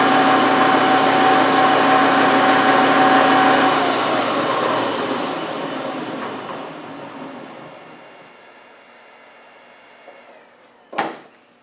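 A Land Rover LT230 transfer case driven flat out by a motor with the diff lock in, a loud steady mechanical whine and rumble that winds down over several seconds, ending with a brief clunk.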